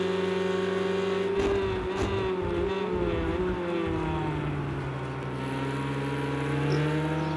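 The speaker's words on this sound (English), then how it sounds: "Looks like that Ford's pulling away from the Ferrari. Yeah, it is quick in a straight line." GTE race cars, a Ford and a Ferrari, roar down a straight in a racing sim, with a steady high engine whine that climbs and shifts pitch as they hold speed, loud and continuous.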